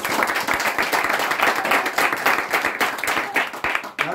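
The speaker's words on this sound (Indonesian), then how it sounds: "Tepuk tangan bagi Tuhan." A church congregation breaks into sustained applause, dense and steady clapping from many hands filling the room at close range for several seconds.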